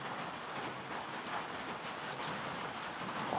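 Steady rain hisses without a break, a dense even wash of drops pattering on a surface throughout, with no voices.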